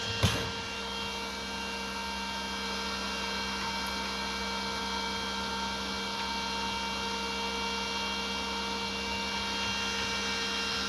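Steady electrical hum from an MMA-200 arc welding machine under repair for a power supply fault, running alone after a brief click at switch-on, with a constant tone lasting throughout.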